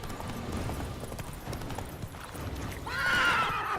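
Roach the horse in The Witcher 3, whinnying with clip-clop hoofbeats under game background sound, a bright neigh rising near the end.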